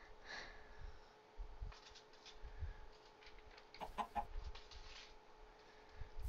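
Clucking chickens in the Minecraft video game, short faint clucks scattered over low background rumble and game noise, with no speech.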